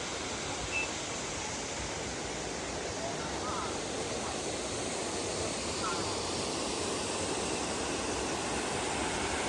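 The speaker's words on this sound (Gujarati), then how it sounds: "તમે સાંભળી જ શકો છો પાણીનો સુંદર મજાનો અવાજ આવી રહ્યો છે" A waterfall near the Dhari Khodiyar temple in the Gir forest roars as a steady, dense rush of falling water, loud and unbroken throughout, with no talking audible.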